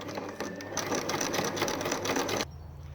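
A sewing machine stitches a pad onto an ALICE pack, running in a steady fast whir of needle strokes for about two seconds before stopping, close and clear with no talk.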